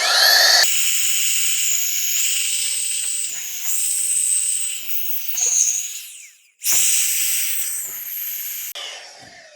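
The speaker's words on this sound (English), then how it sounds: "and then turn on the deflation feature" A Fanttik X10 Cross portable pump on its deflation setting draws air out of an inflatable backrest, making a loud close whining hiss that changes pitch, cuts out briefly, then restarts.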